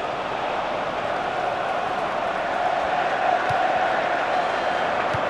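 Stadium crowd in the FIFA 15 football video game, BeNe League match, a steady continuous roar of supporters cheering, fairly loud and sustained throughout with no talk over it.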